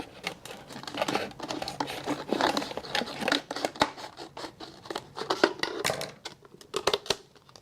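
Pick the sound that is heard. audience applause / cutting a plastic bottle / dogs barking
cutting a plastic bottle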